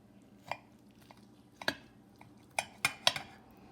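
A knife cuts a slice from an egg quesadilla with sausage, onions and peppers, giving a handful of faint, sharp clinks and scrapes against a plate, irregularly spaced in a quiet kitchen.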